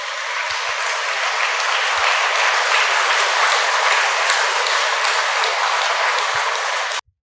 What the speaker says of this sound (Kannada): ನೀವು ಜೋರಾಗಿ ಚಪ್ಪಾಳೆ ಹೊಡ್ಕೊಳ್ರಿ